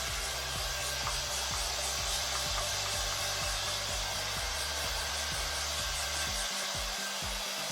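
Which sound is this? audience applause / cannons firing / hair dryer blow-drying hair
hair dryer blow-drying hair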